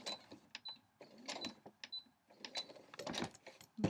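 Domestic sewing machine stitching down fabric shreds for a scrappy quilt block, heard as short bursts of fast mechanical whirring and clicking that stop and restart several times, close by.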